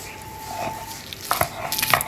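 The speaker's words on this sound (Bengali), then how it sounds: "বেটে নিব কাঁচা লঙ্কা।" Green chillies ground into a paste for a Bengali rui fish curry with cauliflower and potato, giving close, steady rubbing and scraping strokes that grow busier and louder toward the end.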